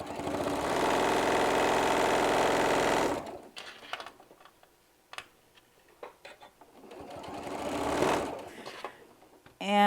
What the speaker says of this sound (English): I'm going to flip this over and go on the other side so I can sew for a little bit